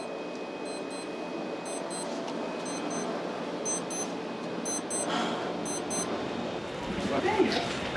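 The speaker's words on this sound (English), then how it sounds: "That's my alarm." A repeating electronic alarm beeps in regular bursts of short tones, fairly faint against steady background noise and a person talking nearby, sounding through about seven seconds.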